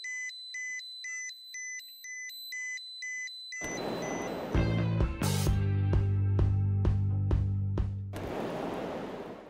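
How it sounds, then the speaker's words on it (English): Rapid electronic beeping in a repeating pattern from a DKG-21 EcotestCARD dosimeter's gamma dose alarm, then it cuts into a loud burst of noisy, layered electronic sound that continues to the end. "When the threshold levels of the gamma dose and gamma dose rate are exceeded, light and audio alarms will be actuated"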